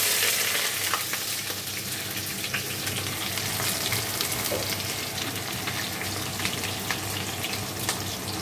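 Onion dropped into hot oil tempered with whole garam masala and dried red chillies, sizzling and frying steadily and loudly for the whole stretch with faint stirring, no talk.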